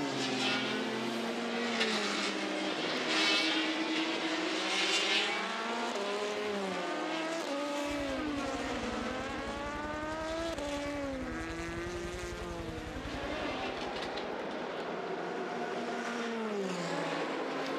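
A Gulf-liveried Porsche race car at the Le Mans 24 Hours, its engine screaming loud and close through rising and falling gear changes as it passes, with a continuous high-revving whine throughout.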